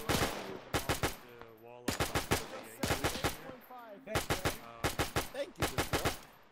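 A US .30 cal machine gun fires in the ARMA 3 IFA WW2 mod during a 1942 Operation Torch beach landing. Close, loud bursts of rapid shots come one after another, with brief gaps between them, and voices talk over the firing.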